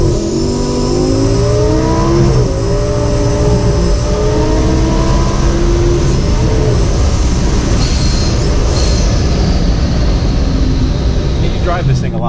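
A 1,040-horsepower Lamborghini Gallardo accelerates hard and close, its engine note climbing in stepped rising harmonics through gear changes and then holding a loud, dense roar with road noise.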